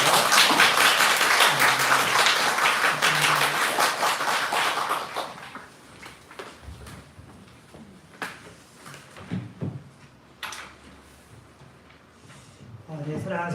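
A church congregation at Sunday worship claps in a dense burst for several seconds, then the clapping thins to scattered claps and small noises before fading into quiet.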